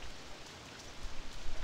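Steady rain falls in a theme park in Rollercoaster Tycoon 3, a soft continuous patter with brief faint drip accents, heard alone.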